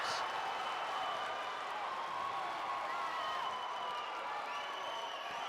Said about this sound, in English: The crowd that has made their way from Northumberland County happy about what they're seeing now